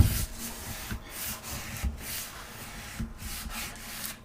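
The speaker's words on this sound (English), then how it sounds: "we want to come back with our squeegee. So we're going to use our squeegee. Work from the center out." A squeegee rubs and drags across vinyl being smoothed onto a stove top cover board, working from the center outward in short, repeated scraping strokes with brief pauses between them.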